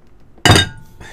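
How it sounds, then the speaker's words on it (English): A big glass bottle of tequila gives a single sharp clink, a quick bright knock with a short ringing tail, followed by a faint second touch. "That is the sound of my big bottle of tequila."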